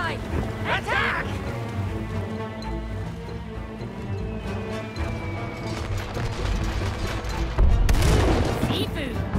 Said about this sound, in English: Hey, I don't like their cannons.